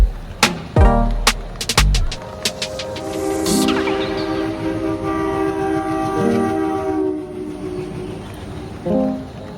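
Train pulling into Bogula railway station during heavy rain, with sharp clanks and thumps at the start, a brief whistle-like squeal, then a steady rumble of wheels and carriages and metallic screeching tones.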